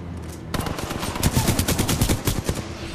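Rapid bursts of fiery grenade after-effects crackle like close, loud machine-gun fire in the Titanfall 2 video game, a dense volley of sharp cracks starting suddenly after a brief quiet lead-in and continuing steadily.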